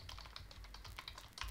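Rapid, close clicking of keys on a computer keyboard as a username is typed in, a quick irregular run of light taps with no talking.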